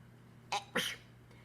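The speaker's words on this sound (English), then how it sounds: "I'm going to sneeze." A single close sneeze with a short intake just before it, followed by quiet room tone.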